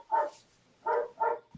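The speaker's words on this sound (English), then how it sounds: "Hello to Danny's dog, who I can hear in the background" A vocal female dog barks three times in the background during a baseball talk call, the middle two barks close together, with no voices over them.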